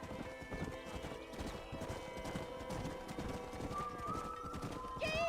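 Horse hooves clip-clop at a steady riding pace in Red Dead Redemption, several horses moving together along a fence, with faint game music and a brief whinny toward the end.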